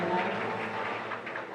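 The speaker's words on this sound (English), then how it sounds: "Please welcome them with a big round of applause." Audience at an international women's forum clapping to welcome the speakers, a short continuous wash of applause from a hall, moderately loud and even throughout.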